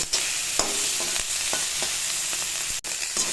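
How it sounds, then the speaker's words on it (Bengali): Fish frying with chilli in a pan for a tangy, spicy greens dish gives a steady sizzle, broken by a few soft scraping stirs and one sharp clatter near the end. "মাছ তো এই জন্য একটু ভেজে নেবো"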